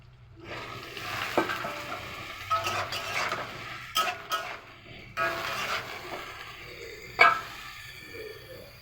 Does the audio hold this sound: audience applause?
no